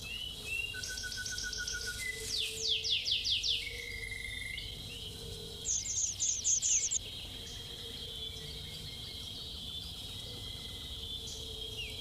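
A groove-billed ani feeding its chick in the Sonoran Desert, with bursts of bright, rapid chirping calls at close range over a steady insect-like hum, plus a few softer single notes.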